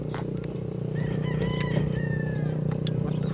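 Rooster crowing once at a distance on a roadside, thin and drawn out over a steady low rumble of traffic or engine noise.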